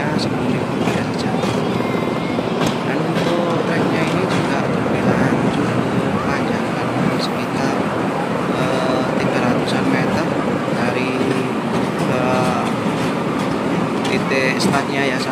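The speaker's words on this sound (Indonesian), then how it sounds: "sekarang kita coba naik kereta." Steady low rumbling engine and rolling noise of a small amusement park ride train at Sumber Gempong, Trawas, with wind buffeting and people talking over it throughout.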